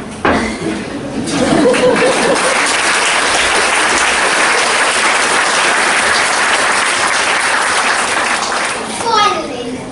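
Audience applause at a Class of 2019 graduation ceremony, a loud, dense wash of clapping that swells in quickly and holds steady for several seconds before tapering.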